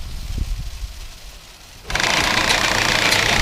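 A bucket loader's engine running on a farm during bean transfer, first quieter and distant, then rising sharply to a loud, steady drone with constant mechanical rumble.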